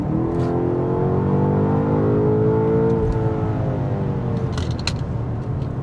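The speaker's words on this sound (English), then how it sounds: "a great exhaust note" A 2025 BMW X5 M Competition, tuned to 617 horsepower, revs up while driving, its exhaust note rising steadily in pitch and then settling into a loud, sustained drone.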